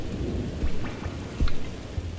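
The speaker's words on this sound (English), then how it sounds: "Oh, it's raining now." Rain and rolling thunder in the video game Jazzpunk, a steady downpour hiss with several low thunder rumbles swelling and fading across the stretch, fairly loud and without talk.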